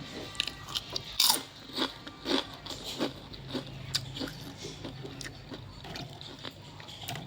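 Crispy fried wakame seaweed snacks with paprika seasoning are bitten and chewed up close, with a series of sharp crunches that give way to softer, quieter chewing.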